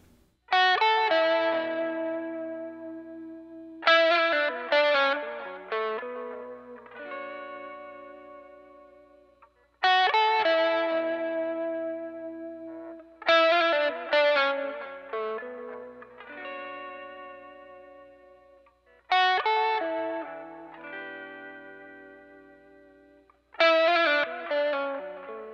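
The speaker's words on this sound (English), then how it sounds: "It's a tape modulation. It's labeled as retro reel, and it just sounds phenomenal." Electric guitar through a Line 6 HX One pedal set to its retro reel tape modulation effect, with strummed chords and picked notes ringing out in long decaying swells and a warbling wobble, played alone without talk.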